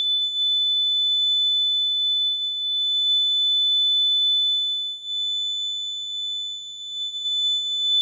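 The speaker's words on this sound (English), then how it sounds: "we're starting to get some distortion creeping in there now." A steady distorted test tone from a Modulus Supa Deluxe synthesizer module holds a constant high pitch with faint harmonics, sounding alone and unbroken throughout.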